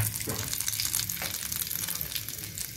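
Red masala frying in a little oil with cumin for methi matar malai, making a soft, steady sizzle with a few faint stirring scrapes, fairly quiet throughout.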